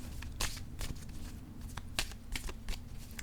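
Playing cards being shuffled and drawn during a tarot-style card reading, a run of crisp riffling flutters and soft slaps repeating several times at close range, with no talking.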